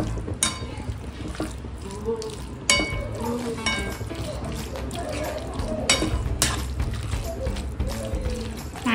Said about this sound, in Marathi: बघा ह्याच्यामध्ये आपण फ्राय केलेलं चिकन टाकू.